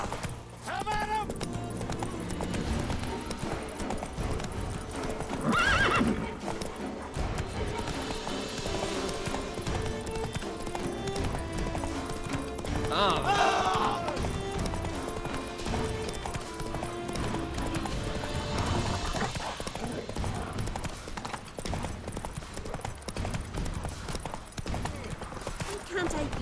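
In The Witcher 3 video game, the horse Roach trots and gallops with steady clip-clop hoofbeats and occasional whinnies, set amid music and spoken character dialogue.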